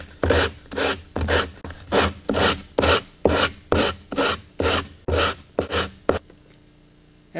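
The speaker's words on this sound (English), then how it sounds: "After you're done sanding" Steady rhythmic rasping strokes, about a dozen back-and-forth passes sanding the hard edge of a model rocket centering ring, close and fairly loud, then silence.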